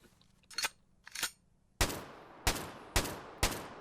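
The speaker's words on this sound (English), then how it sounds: "I mean, I could shoot them." Gunshots fired at zombies in the video game Nightmare Drive: two sharp cracks followed by four louder, heavier booming shots at roughly even half-second intervals, each with a short decaying tail.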